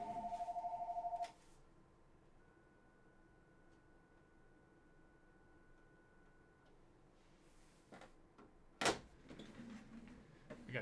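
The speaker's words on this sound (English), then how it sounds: "Gotta answer the phone." An indoor telephone gives a short electronic ring at the start, then the room falls quiet with faint background hum. A few knocks and clatters follow near the end.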